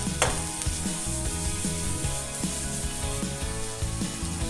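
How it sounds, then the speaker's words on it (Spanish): Chopped onion sizzles in a hot frying pan, a loud continuous crackle broken by stirring scrapes, close and without talk. "Lo que vamos a hacer es echar toda la cebolla aquí, solamente que se sofría un poco."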